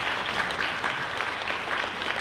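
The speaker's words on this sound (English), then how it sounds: "please give a round of applause for Adam Goldstein of True Alternative Fuel" A room full of people claps steadily and loudly, a dense, even wash of applause with no break.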